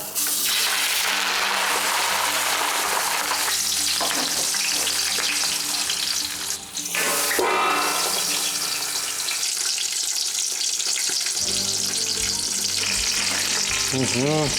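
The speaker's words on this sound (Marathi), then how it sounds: "अशा प्रकारे रॅप केलेला मासा तेल तर गरम झालंय यात सोडायचं आपल्याला" Fish wrapped in banana leaf fries in hot oil in a kadhai, making a loud, close, continuous sizzle and crackle with occasional bursts, as if the pan is shifted, and no speech.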